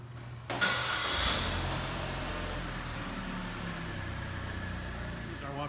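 A 2016 Buick Encore all-wheel drive starts up by remote start: a sharp crank catches at about half a second and settles into a steady, close idle hum that runs to the end.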